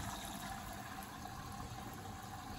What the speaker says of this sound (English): Yeah, that's the water coming in.